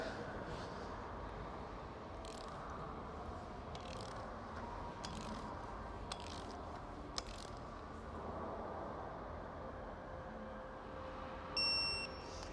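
Faint ratcheting clicks from a digital torque wrench tightening gearbox bolts over quiet background noise, ending in a short high electronic beep.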